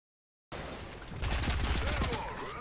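Gunfire erupts from a shotgun fight in a battle-royale video game, a dense burst of overlapping shots and impacts building from about half a second in and staying loud and continuous to the end.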